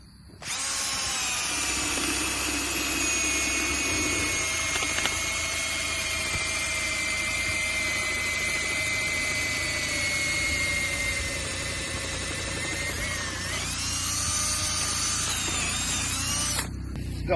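Power drill boring a pilot hole, a steady high whine with sustained tonal harmonics running continuously for about sixteen seconds, loud and close, with a short pitch dip near the end before it stops.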